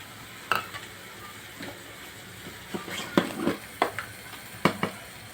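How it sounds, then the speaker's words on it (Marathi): Soaked shrimp with a little turmeric sauté in a pan over a soft sizzle, broken by several sharp, close scrapes and clacks of a spatula stirring against the metal. "आणि थोडीशी हळद घालायची आणि हे सर्व आपल्याला या प्रकारे परतून घ्यायचं।"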